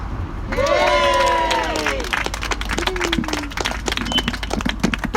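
A large crowd at a climate demonstration cheers loudly with whoops and shouts, then breaks into sustained clapping and scattered cries that stay strong throughout.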